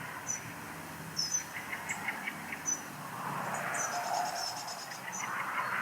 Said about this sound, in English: There's a blue-tip scolding over the other side of the garden